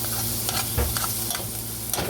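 Jarred mushrooms and garlic frying in a pan: a steady close sizzle with a few soft stirring scrapes over about two seconds, no talking.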